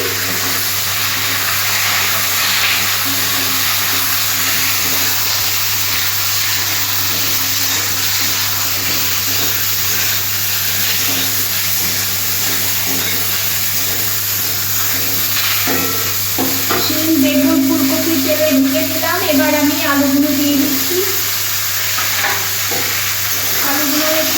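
Brinjal pieces frying in hot oil, stirred now and then, with a steady, close sizzle throughout and a louder burst of bubbling and scraping near the end.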